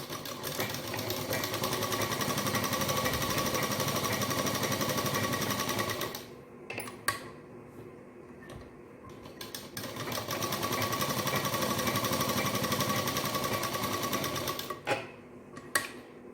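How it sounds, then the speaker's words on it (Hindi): Sewing machine stitching a pocket onto a straight salwar, a fast, steady, close mechanical whir that runs continuously, stops briefly mid-way, resumes, then ends with a few short clicks. "इसको यहाँ से कोने को छोड़ के हमने सिलाई लगानी है और इसी तरीके से हमने 2 सिलाई इसके ऊपर लगा लेनी है।"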